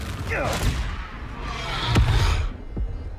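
Confringo fire blast spells in Hogwarts Legacy burst out in quick succession, sharp whooshing blasts mixed with other spell effects, while a voice calls out over them.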